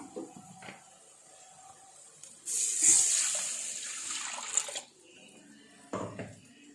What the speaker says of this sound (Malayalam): ഇനി നമുക്കിതിലേക്ക് വെള്ളം ഒഴിച്ച് കൊടുക്കാം